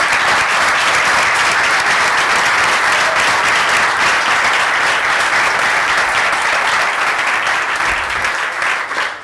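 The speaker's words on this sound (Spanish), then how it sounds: "Un fuerte aplauso para Luis" Loud, sustained audience applause at a Startup Grind Asturias talk, honoring guest Luis; dense, even clapping fills the room throughout and tapers slightly at the very end.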